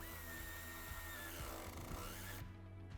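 A power tool tightens a nut with a washer while an Audi Q5 (8R) tow hitch and wiring kit are fitted, giving a steady close whir under a constant hum that cuts out near the end.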